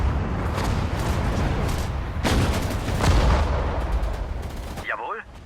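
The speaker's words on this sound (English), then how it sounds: "good shots out of this gun too" Artillery gun firing in the WWII strategy game Sudden Strike 4, France campaign with armored doctrine: dense, booming blasts and rumbling battle noise fill the whole stretch, with heavier bursts midway.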